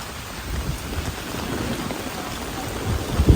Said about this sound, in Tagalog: Hindi pa po tapos yung bagyo.